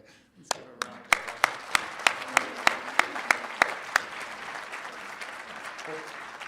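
Applause swells from a conference audience at a closing keynote, a few near, sharp, evenly spaced claps over a rising wash of crowd clapping that carries on to the end.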